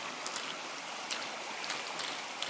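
Water from a stream-powered pump pours steadily out of a black pipe outdoors, a continuous close rushing splash with brief brighter spurts, no talking.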